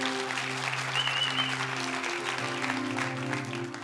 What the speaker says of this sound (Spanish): pueden aplaudir los padres también